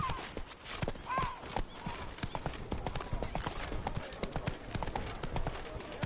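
Hooves of Roach, the horse in the video game Witcher 3, clip-clop in a quick, continuous rhythm close by, mixed with game ambience and a brief vocal sound.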